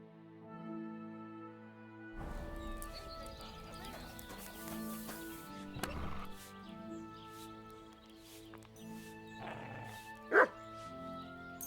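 A dog barks repeatedly in the medieval role-playing game Kingdom Come: Deliverance II, with horse hooves clopping and soft background music, plus a sharp yip near the end.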